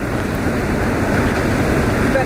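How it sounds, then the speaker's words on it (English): Hurricane Laura's wind gusts, around 80 miles an hour, roar continuously and loudly, a dense rushing blast buffeting the microphone with no pause. "Now it's about 80 mile an hour gusts."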